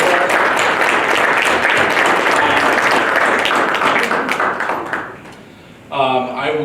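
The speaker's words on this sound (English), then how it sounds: "big round of applause for Chuck, Chelsea, Anthony putting this together for us" An audience at a basement systems symposium gives a sustained round of applause and clapping that fades out, then a voice resumes speaking.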